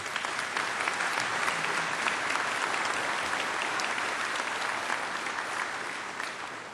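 A commencement audience at Dakota State University's spring ceremony applauds steadily, a dense, even wash of many hands clapping that holds throughout and tapers slightly at the end.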